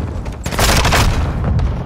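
Loud, close bomb explosion in the shooter game Call of Duty Modern Warfare 2, a heavy booming blast that swells and rumbles for over a second before tailing off.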